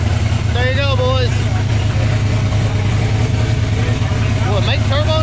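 A Fox-body car engine idles with a steady low rumble throughout, as people speak briefly over it near the start and end.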